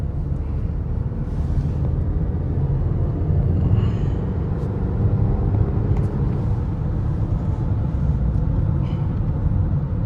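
Steady low rumble and muffled wind rush inside a moving 2026 Renault Duster, constant and fairly loud, with no talking.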